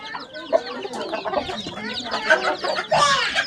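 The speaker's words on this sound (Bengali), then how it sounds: "তো আমাদের সামনে অনেকগুলো মোরগ মুরগি দেখতে পাচ্ছেন" Fancy-breed roosters and hens on a poultry farm in Tangail cluck and call close by in a busy, overlapping chorus, with one louder squawk near the end and no speech.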